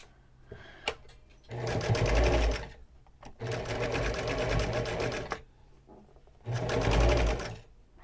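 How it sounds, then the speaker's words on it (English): A sewing machine stitches along the edge of a fabric face mask about half a centimetre in, running in three steady close bursts of rapid mechanical whirring separated by short quiet pauses. "you're going to sew right along the edge about a 1/2 centimeter in"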